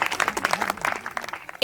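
An audience claps for a poet stepping onto a stage at a martyrs' memorial event, a burst of loose, uneven clapping from a crowd, with a voice speaking over it.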